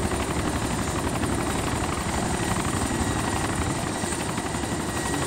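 A helicopter in the military game Arma 2 drones steadily and loudly throughout, a continuous rotor and engine roar with faint rhythmic chop and no talking.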